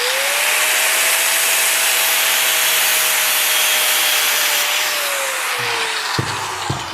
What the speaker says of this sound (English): I can cut it with a grinder real easy.